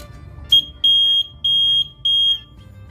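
Shrill electronic beeping from a homemade flame-detecting fire alarm: a brief chirp, then three sustained loud tones in an even pattern, close by, with no voices.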